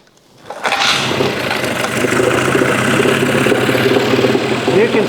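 A Mercury outboard motor running on 50-to-1 fuel mix starts after a brief quiet moment, catches and settles into a steady, loud, close idle that continues evenly for several seconds.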